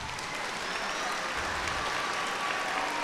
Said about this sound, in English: Let's give a round of applause to the 5th,